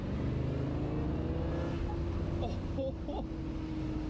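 Chevrolet Corvette Stingray driving, its steady engine and road drone running continuously beneath an occupant's talk from inside the cabin.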